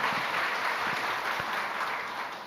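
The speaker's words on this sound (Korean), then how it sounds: "하나님께 감사의 박수 드려야 돼요." Congregation applauding in thanks during a church sermon: a dense, steady wash of many hands clapping that fills the space evenly and fades slightly at the end, with no talk over it.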